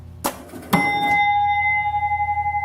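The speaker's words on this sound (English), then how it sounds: "And you can hear the gong go off." Gong bell on a 1977 Gottlieb Golden Arrow pinball machine strikes loudly once after a brief click, then rings on with a steady, slowly pulsing tone, close and alone.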